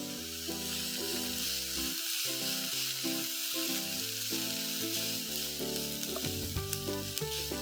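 Food sautéing steadily in a pan on a home stove, lightly salted, with a continuous soft sizzle under music playing throughout.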